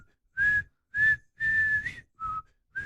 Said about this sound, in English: whistling wasn't very good because the caffeine has dried out my lips